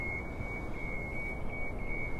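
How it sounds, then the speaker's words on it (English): Steady, continuous high-pitched electronic beeping from construction machinery nearby on a New York City street by the High Line, droning without pause over loud city rumble. "Sorry about the beeping, they're doing some construction right nearby."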